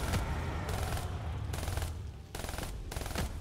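Machine gun fire in the zombies mode of the video game Call of Duty Black Ops 3, heard as sustained automatic bursts in several close, loud stretches separated by brief gaps.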